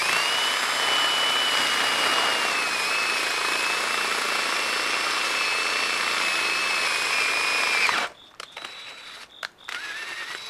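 A power drill bores through plastic football shoulder pads with a loud, steady high whine for about eight seconds, then cuts off, leaving a few short rattles and clicks.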